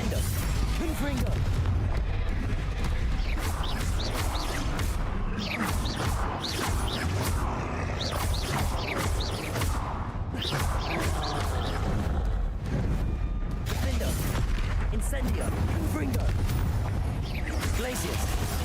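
Spells cast in combat in Hogwarts Legacy, a dense run of crashes, booms, whooshes and creaking mechanical clatter that keep going nonstop, with a voice calling out spell names between the blasts.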